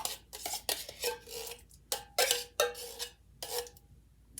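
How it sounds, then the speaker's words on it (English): A spoon clinks and knocks against a bowl while pineapple tidbits are stirred into green jello, a run of close irregular taps and scrapes with short pauses, no talking. "give it a stir so it's nicely evenly distributed throughout the green jello"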